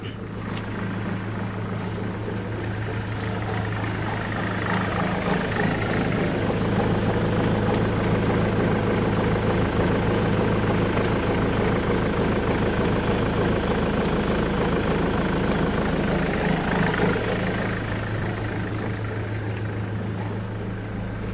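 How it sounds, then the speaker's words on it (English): A Jaguar X-Type 2.0 TDCi diesel with faulty leaking injectors idles nearby, a steady low rumble with a constant hum that barely changes over about twenty seconds. "that amount of fuel was with the engine idling for a good 4 to 5 minutes"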